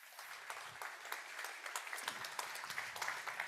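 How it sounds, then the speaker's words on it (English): A conference audience applauds after a keynote opening, a soft, distant, continuous patter of many hands heard alone. "so you can hear your applause as well"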